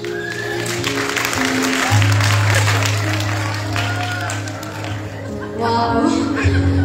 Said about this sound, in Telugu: మనం గట్టిగా చప్పట్లు కొట్టాలి